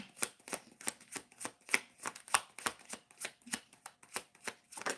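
A deck of tarot cards is shuffled close up, giving a fast run of crisp riffling slaps and flutters in a steady rhythm, with no voice over it.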